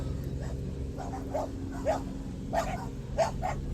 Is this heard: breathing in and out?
no